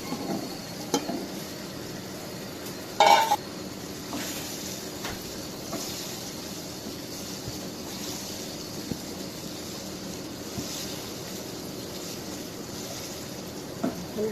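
Hilsa fish curry with taro (kochur mukhi) and coriander leaves sautéing in a pan, giving a faint steady sizzle and hiss with occasional soft stirring scrapes, one brief louder clatter near the start.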